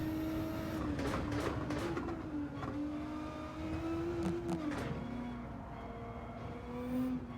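A race car engine in a rain-affected racing video game drones and revs steadily, its pitch rising and falling through gear changes, with a few sharp clicks and thuds on top and no talking.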